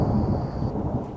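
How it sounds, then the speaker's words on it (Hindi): Heavy rain pours with a deep, continuous rumble of thunder underneath, a dense, loud wash of sound filling the whole stretch without any voices. "बारिश शुरू हो जाती है।"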